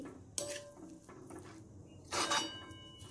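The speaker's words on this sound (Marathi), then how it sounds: "आता मी टाकते खोबरं त्याच्यावरतून तर खोबरं टाकलं आणि मिक्स करून घेते छानपैकी" A spoon stirs grated coconut into freshly cooked mixed leafy vegetables in a pan, a few scraping and clinking strokes against metal over a steady background hiss, close by, no one talking.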